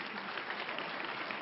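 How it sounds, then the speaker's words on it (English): Audience applause at a high school evening event, a dense, even wash of many hands clapping steadily throughout at moderate distance, no speech over it. "How about a round of applause for Tatiana?"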